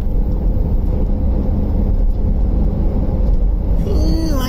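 A van drives along a road in Wales, heading through Snowdonia, giving a steady, loud low rumble of engine and road noise throughout, with a brief higher tonal sound near the end.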